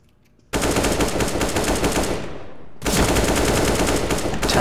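Gunfire in the video game CS:GO, with a sudden long automatic burst that tapers off and then a second sustained burst of rapid shots, loud and close, with no talking.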